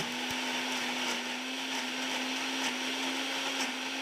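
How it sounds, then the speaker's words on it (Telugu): A mixer grinder grinding coconut chutney whirs steadily at high speed, a continuous loud motor drone with faint rhythmic churning throughout. "కొంచెం కొంచెం పోసుకుంటా మిక్సీ పట్టుకుంటా ఉంటా"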